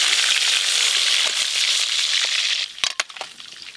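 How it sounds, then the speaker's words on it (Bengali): Hilsa fish frying in hot oil in a home kitchen for a Bengali hilsa curry, giving a loud steady sizzle and crackle that ends near the end in a few sharp clatters and pops. "এই মাছগুলো ভাজা হয়ে গেল"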